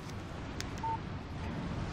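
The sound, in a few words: text message alert tone on phone, Alan Wake video game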